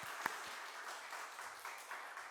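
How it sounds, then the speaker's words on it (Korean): Quiet, steady applause from a church congregation during a Sunday service, a soft continuous patter of clapping with one brief sharper clap near the start, heard from some distance. "축복의 박수 한번 해줄까요?"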